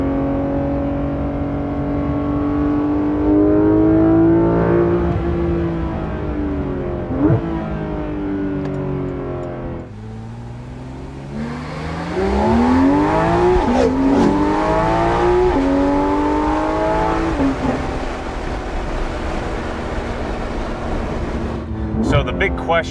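A Porsche 991.2 GT3 RS driving on a mountain road, its engine climbing and falling through gears with rising revs and shifts, steady interior drone throughout, while people talk over it.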